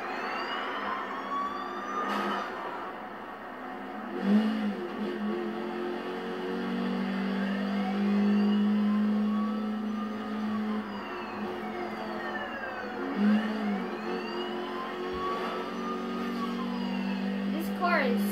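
An unmarked police car racing in Need For Speed Rivals, a continuous engine drone with rising and falling revs and siren-like sweeps, playing steadily throughout.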